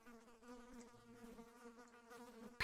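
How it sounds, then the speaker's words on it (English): A bee buzzes in the video game Tears of the Kingdom, a steady, wavering drone heard alone for a few seconds before a short, sharp noise cuts it off at the end. "Pesky bee?"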